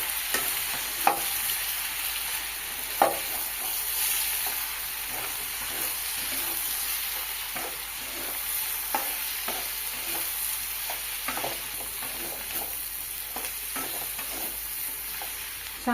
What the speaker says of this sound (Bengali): টমেটো কুচি দিয়ে দেবো, ভেজে রাখা আলু, লঙ্কার গুঁড়ো, হলুদ গুঁড়ো, ভাজা ধনে জিরে গুঁড়ো দিয়ে ভালোভাবে কষিয়ে নেব।